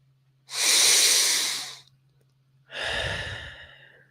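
Two deep breaths during a breathwork exercise, each a long breathy rush of air close to the microphone, the first lasting about a second and a half and the second slightly shorter, with a low steady hum underneath and no talking.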